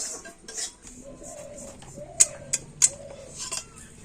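A pan of dry-fried rice flour is lifted off a stove, giving three sharp metallic clanks in quick succession over a soft kitchen background, with faint scraping around them.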